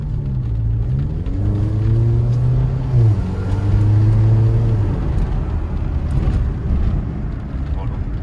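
Mercedes GLA 45 AMG accelerating in comfort mode, a subdued engine drone climbing in pitch through a couple of smooth gear shifts, steady and fairly quiet beneath road rumble.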